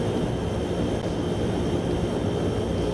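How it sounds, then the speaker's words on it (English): Steady, continuous drone of a Fokker F27 turboprop airliner's engines in a flight simulator, heard as a dense, even roar with a faint high whine while taxiing toward the runway, with no talking. "Airplane sounds pretty good so far."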